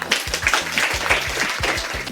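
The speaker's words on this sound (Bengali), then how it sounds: "বৃষ্টি কসমেটিক্সের জন্য একটা করতালি।" An audience applauds at a school quiz competition prize giving, producing a dense, close burst of rhythmic clapping that continues throughout.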